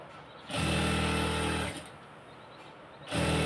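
An electric sewing machine stitches a rolled hem on a salwar, running in two short bursts of fast, even whirring with a quiet pause between.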